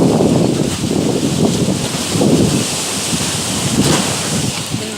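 Ocean waves roll and surge in strong wind along a coast, a loud continuous roar with wind buffeting the microphone, no voices.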